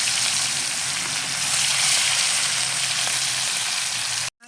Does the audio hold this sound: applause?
no